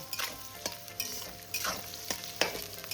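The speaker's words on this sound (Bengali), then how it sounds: "পেঁয়াজের সাথে মুলো আর আলুটাকে বেশ ভালো করে ভেজে নেব" Radish and potato pieces fry with onion in hot oil for a Bengali radish curry, giving a soft, steady sizzle punctuated by several scraping stirs of a spatula at irregular intervals.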